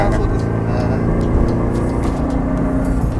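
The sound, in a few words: Toyota 86 engine rumble, like old Subaru unequal-length exhaust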